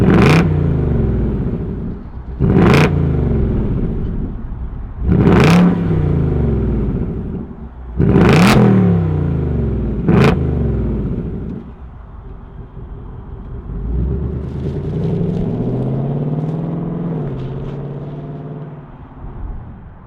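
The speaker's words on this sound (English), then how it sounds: "let's fire it up and hear what this V8 sounds like" A Vapor Blue 2025 Ford Mustang GT with a V8 is started and blipped in five sharp, loud revs a couple of seconds apart, then settles into a lower, rumbling idle.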